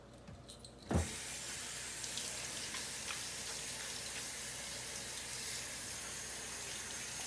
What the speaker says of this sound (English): Are you using rinsing again for the vegetables?